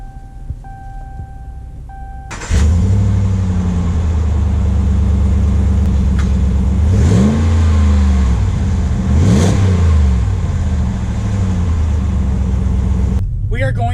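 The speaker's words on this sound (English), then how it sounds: "let's take this truck out for a quick drive" A lifted 2019 Ram 1500 pickup truck engine starts and idles with a steady low rumble, revving up twice in rising whines before the sound cuts off abruptly.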